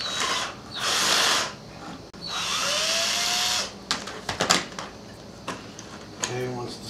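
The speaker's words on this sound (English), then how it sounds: "just going to use the Torx to take this off. And there's four of these on here." A power driver with a Torx bit whirs in two sustained bursts as it backs screws out of a string trimmer housing, followed by scattered clicks and rattles of small parts and a short bit of talk.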